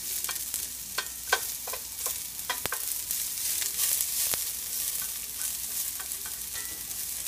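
A medium onion frying and being stirred in oil in a pan: a steady close sizzle with scattered crackles and soft scraping clicks, no talk.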